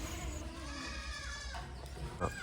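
Goats bleating on a farm where goats and Beetal bucks are kept, several wavering calls overlapping fairly close by with steady farmyard background noise throughout.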